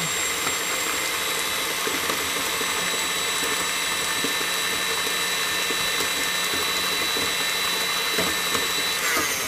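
An electric mixer running on high churns chocolate chip cookie dough, producing a loud, steady, unbroken motor whine and whir that fills the whole stretch without pause.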